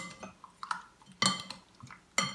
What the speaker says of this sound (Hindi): इस तरीके से इसे अब हम मिक्स कर लेते हैं